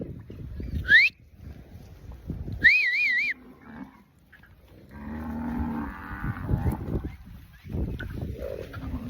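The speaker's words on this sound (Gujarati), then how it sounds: "ચલો ભાઈ આપણે ગાયો બોલાવીએ." Cows on a farm, kakrej cattle, giving a few moo calls between stretches of handling noise and movement, with a man's rising, wavering call or whistle standing out near the start.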